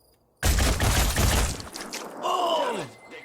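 Gunfire in the video game Phoenix Point: a sudden loud burst of rapid shots with a crackling, shattering texture, followed by a descending groan-like tone and mechanical whirs.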